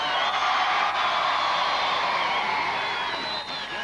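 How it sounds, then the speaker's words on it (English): A studio audience at a 1981 outdoor team-games show applauds and cheers a contestant, a steady wash of clapping and crowd noise throughout with occasional whoops. "Give him a nice round of applause"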